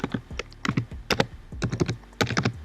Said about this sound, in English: I'm going to type in my